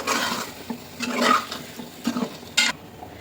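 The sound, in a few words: mixing curd into curry with a spoon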